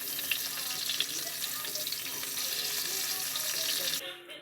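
Mushrooms cooking in a frying pan for a steak dinner, a continuous close crackling sizzle that cuts off abruptly near the end.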